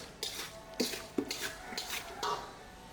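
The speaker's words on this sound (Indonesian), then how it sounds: "Aduk terus sampai rata ya." Scraping and clinking of a utensil stirring chicken marinade in a bowl, a few irregular strokes close by, moderately quiet, no talking.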